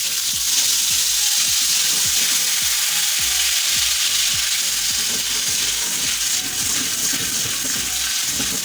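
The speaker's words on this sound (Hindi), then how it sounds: "अब हमने इसके अंदर थोड़ा सा पानी डालना है।" Steady, loud sizzling hiss of water added to a hot oil tempering with red chillies, with crackling and bubbling continuing throughout.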